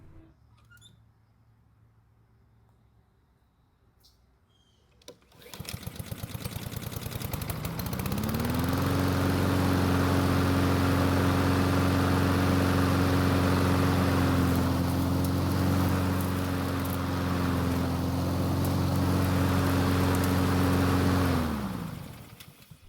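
A Honda lawn mower engine with a starting fault cranks briefly, catches, and settles into a loud, steady drone that runs for about fifteen seconds before cutting off, with quiet background before it starts.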